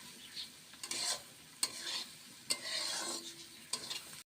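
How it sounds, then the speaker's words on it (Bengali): Chopped ingredients for a coconut prawn dish fry in a little oil over gentle heat, with several bursts of stirring and scraping against the pan over a soft sizzle, close and fairly quiet, no talk. "এবার সব কিছু সুন্দর করে অল্প আছে ভাজবো।"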